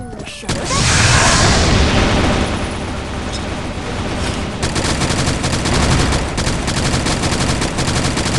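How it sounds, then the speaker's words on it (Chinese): A grenade blast followed by sustained rapid gunfire in the CrossFire Mobile shooter in zombie mode with the QBZ191 rifle, loud and dense, with an explosive burst early and continuous crackling shots after. "手榴弹登场，小心闪光！ 轰！ 手榴弹！"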